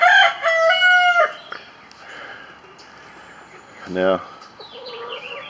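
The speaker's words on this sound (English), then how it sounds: "I've got another younger rooster in here" A younger rooster crows loudly and briefly, followed by a quieter cluck a few seconds later, and a voice speaks a single word close by.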